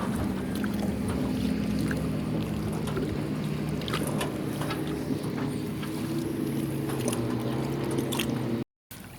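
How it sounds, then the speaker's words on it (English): Speeding motorboats on a lake pass a kayak, heard as a steady low engine drone with wind and water noise, continuous and fairly close, with a brief dropout near the end. "Some more speeding boats on the lake."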